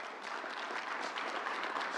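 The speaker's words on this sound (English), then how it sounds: "Charlie King, let's give him a big round of applause." An audience at a public event in downtown Manhattan breaks into a big round of applause, with dense, steady clapping filling the whole moment close by.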